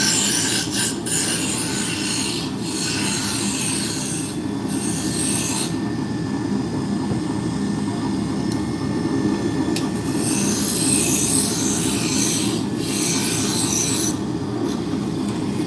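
A lathe spins at its top speed of 3,629 RPM, turning a small-diameter workpiece, giving a steady, continuous whirring drone with a raspy, rubbing edge and brief hissy bursts, running alone without talk.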